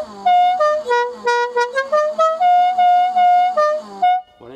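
A series of short car horn honks from a 1969 Dodge Charger at a scrapyard, tooted in an uneven rhythm with a few longer blasts, loud and close.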